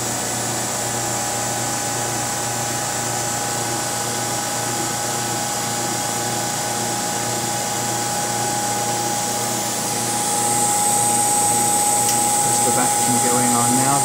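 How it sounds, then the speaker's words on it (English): Vacuum pumps on an EVG 520 wafer bonder running as the roughing pump switches over to the turbo pump, a steady mechanical hum and whine that rises to a higher, brighter tone near the end. "The roughing pump's just switched over to the turbo pump."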